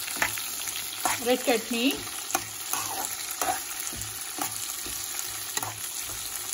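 Red chilies fry in a pan for chutney, giving a soft steady sizzle with scattered stirring clicks and scrapes. A voice speaks briefly over it early on.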